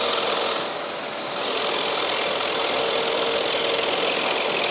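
A scroll saw runs steadily while cutting thin wood, a continuous buzzing mechanical drone with a brief dip in loudness early on and no talking.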